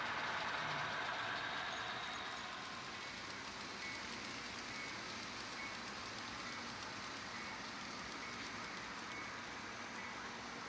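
HO scale model trains running on a layout, including an Alco locomotive, a soft continuous mechanical rumble and whir that stays steady and fairly quiet throughout.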